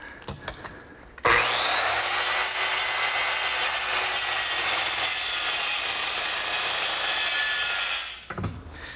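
A power saw cuts across the end of a glued wooden butcher block in one sustained whine of about seven seconds, loud and close, starting abruptly and winding down at the end.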